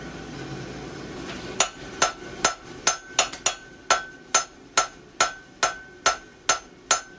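A hammer strikes welded steel being shaped into a Euro-style barbecue grill, about a dozen sharp ringing metallic blows in a fairly steady rhythm, close and loud, with no talking.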